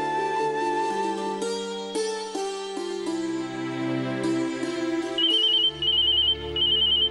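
A telephone rings in a home with a melodic electronic ringtone that ends in a repeating high trill, clear and fairly loud, with no speech over it.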